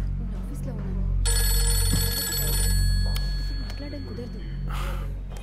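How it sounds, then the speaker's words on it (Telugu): A phone ringtone in a Telugu film scene plays as a sustained electronic tone for a couple of seconds, heard under a voice and a deep background hum. "ముందు రింగ్ టోన్ మార్చు."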